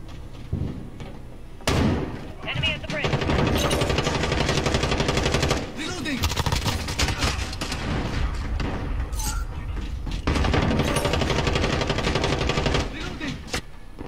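Rapid bursts of video game gunfire rattle through a hectic livestreamed shootout, with loud automatic fire and sharp thumping shots running nearly continuously, dipping briefly between volleys before resuming at full intensity.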